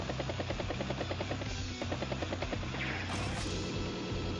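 Battlecopter helicopter unit in Advance Wars: Days of Ruin: a rhythmic, pulsing rotor chop under steady game music, with brief clicking effects layered on top.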